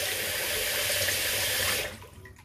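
A tap runs steadily into a sink to rinse a copper Phoenix Artisan DOC Ascension safety razor, a close, even hiss of flowing water that cuts off after about two seconds, leaving quiet drips.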